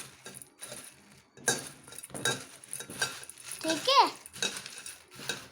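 Puffed rice and farsan are stirred together in a bowl for bhel, with soft scraping, rustling and clinking of a spoon against the dish in irregular bursts, fairly close and quiet, with a brief word spoken.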